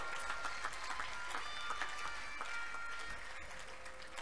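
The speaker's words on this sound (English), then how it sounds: "Clap unto God." A church congregation claps together during a testimony service, steady rhythmic applause with broadband crowd noise filling the space, moderately loud throughout.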